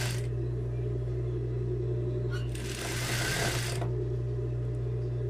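Sewing machine stitching the side seams of a jumpsuit, a steady close mechanical whir running throughout, with a brief brighter burst of faster stitching near the middle.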